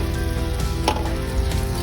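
Butter sizzling steadily in a hot frying pan for a cheese omelet, a close, continuous crackle and hiss with small pops and no talking.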